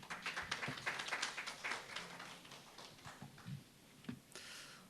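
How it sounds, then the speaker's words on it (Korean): Seminar audience on housing policy applauding as a presenter is welcomed, with faint, scattered hand claps that thin out toward the end, quiet and somewhat distant in the room. "뜨거운 박수로 맞아주시기 바랍니다."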